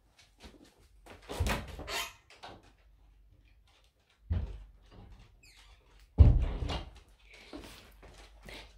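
A door thuds open with a clunk, followed by quiet room sounds and soft movement; earlier there are a few brief bumps and faint rustling.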